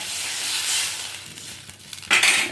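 Water splashes into a pan of frying ridge gourd strips, followed by a sudden loud burst of hissing sizzle near the end, after a quieter stretch of cooking noise.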